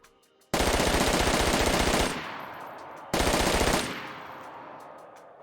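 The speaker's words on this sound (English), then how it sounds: "I did test out a few guns and I will tell you that the M4 shoots incredibly fast now" Rapid automatic fire from an M4 rifle in the DayZ video game, two loud sustained bursts of dense rattling shots, the first about one and a half seconds long and the second shorter, each trailing off into echo.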